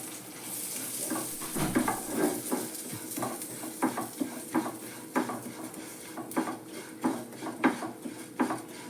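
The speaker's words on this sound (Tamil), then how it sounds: "இப்போ கோதுமை ரவையை நம்ம வறுத்துக்கலாம்." Wheat semolina dry-roasting in a pan for pongal, with repeated metal spoon scrapes and clinks against the pan over a faint sizzle, close and rhythmic.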